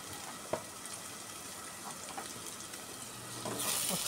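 Mulakkaya tomato curry with rock salt being stirred in a pan, a steady soft sizzle under scattered scrapes and clinks of the spoon, growing a little louder and brighter near the end.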